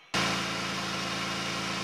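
A car with a newly charged battery fitted after a no-start problem fires up suddenly and settles straight into a loud, steady idle with a rhythmic low pulse, coming through a partly repaired exhaust.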